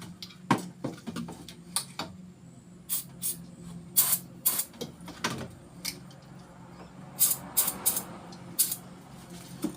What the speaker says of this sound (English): I'm going to spray it with some belt dressing stuff